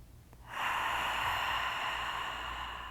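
A single long, audible exhale during a yoga practice: a sharp intake followed by a sustained, breathy outflow close to the microphone that gradually fades.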